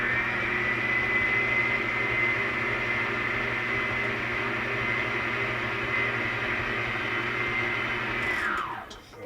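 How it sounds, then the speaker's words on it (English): A stand mixer running on medium beats eggs, butter and sugar, a steady motor whir with a constant hum that holds evenly, then winds down and stops at the end. "Mix this, if you're using a stand mixer, make sure you keep it on medium."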